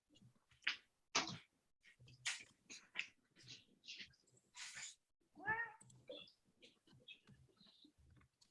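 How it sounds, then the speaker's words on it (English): A cat meows repeatedly inside a formal hearing room, several distinct cries spaced irregularly, fairly close, with faint room noise and brief low voices in between. "Just a brief recess while I extract this cat from here."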